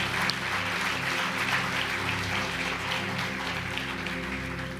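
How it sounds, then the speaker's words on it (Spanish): Worshippers clap together in a church, giving God a strong round of applause that holds steady and fairly loud across several seconds, with no speech on top. "Dale un fuerte aplauso a Dios."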